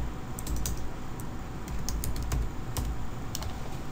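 Rapid, uneven keystrokes on a computer keyboard while an email is typed, close and clear over a steady low room hum, with no talking.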